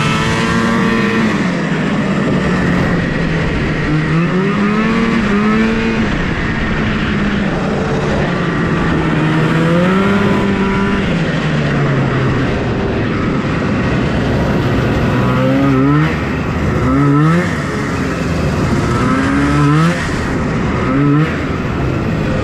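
A Yamaha Enticer snowmobile races on a frozen lake, its two-stroke engine droning loudly and close throughout, pitch rising and falling with repeated revs and quick throttle blips later on.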